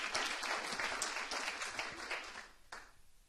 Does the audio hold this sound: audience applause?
yes